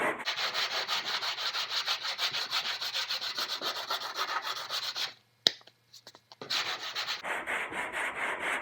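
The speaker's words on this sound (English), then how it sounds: "with some 120 grit sandpaper on it" A car hood is sanded by hand with 120 grit sandpaper in steady back-and-forth strokes, a close, continuous gritty rasp that stops briefly for a pause and a light tap, then resumes.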